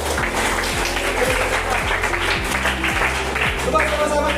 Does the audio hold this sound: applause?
yes